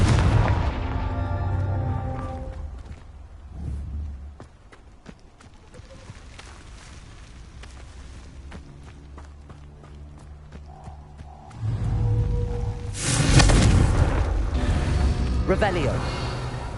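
Repeated Confringo fire spell explosions in Hogwarts Legacy, booming blasts with rumbling tails, one near the start and a louder, sustained burst later, mixed with game sounds and a voice speaking between them.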